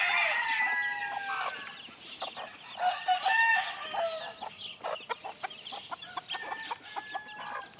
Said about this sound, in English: And back there I got some of the game roosters.